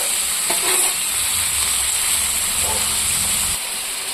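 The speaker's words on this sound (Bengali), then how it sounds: "এটা দিয়ে এখন আমি কিছুক্ষণ ভাজা করব মাংসটা।" Chicken meat fries in a pan with a loud, close, continuous sizzle, broken by a few stirring scrapes, and no one speaks.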